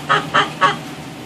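Backyard hens, about six years old and rain-soaked, give three short, sharp squawking calls in quick succession, fairly close and loud, then fall quiet.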